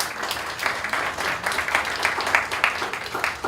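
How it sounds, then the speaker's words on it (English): A spring recital audience claps for a performer, with steady, moderately loud applause from a modest crowd that rises and falls slightly over a few seconds. "Big round of applause for Raquel"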